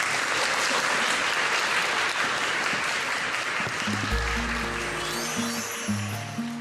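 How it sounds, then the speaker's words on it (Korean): Sustained audience applause at a Korean book talk welcomes an author to the stage, dense and steady for several seconds before fading as music-like tones and a voice emerge near the end. "큰 박수 부탁드립니다"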